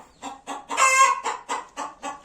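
A backyard hen clucks and squawks loudly and close, a run of sharp rhythmic calls with one longer drawn-out cackle in the middle, heard alone without talk.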